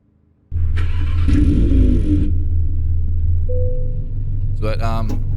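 A 2011 Volkswagen Polo GTI engine in American Truck Simulator cranks and catches abruptly, then settles into a loud steady idle; a brief tone and a burst of voice follow near the end.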